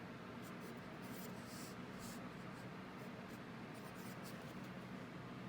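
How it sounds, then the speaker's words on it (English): Pen writing numbers on a board: soft, continuous scratching strokes with short bursts of squeaky scrawl, faint and close. "So I'm going to write it just like this."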